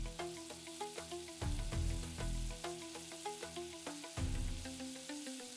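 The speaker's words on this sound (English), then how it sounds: "Into the pan, I am adding 100 ml of melted butter and paste of 4 green chili and 8 cloves of garlic" Green chili and garlic paste fries in 100 ml of melted butter with a loud, crackling sizzle. The sizzle swells in bursts as the paste is stirred, alongside faint clinks.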